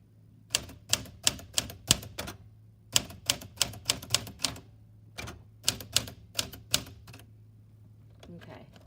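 A Smith Corona Silent Super vintage manual typewriter with a black ribbon is typed on in close, sharp keystrokes, coming in quick bursts of several strikes separated by short pauses, over a low steady hum.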